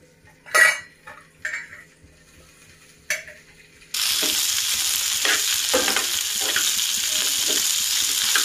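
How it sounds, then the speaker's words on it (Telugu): Okra hits hot oil in a pan: a few quiet clinks and utensil knocks come first, then a loud, continuous sizzle takes over for the rest, broken by soft stirring scrapes. "ఇది కొంచెం బాగా ఫ్రై చేసుకోవాలండి"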